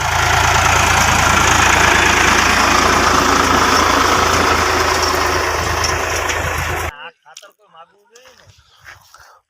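A tractor engine idles on a farm during chickpea sowing and ridge-making, a loud, steady, close rumble that runs for about seven seconds before cutting off abruptly, followed by scattered quieter sounds.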